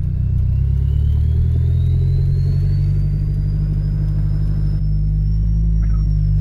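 A car engine running steadily in first gear while climbing a slight uphill, with brakes failed; a loud, continuous low rumble with a slowly rising whine, close and without talk.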